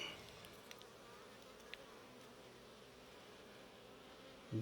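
Honey bees buzz in a steady, faint drone around an open hive during an inspection, a continuous swarm hum with a few brief louder passes close by.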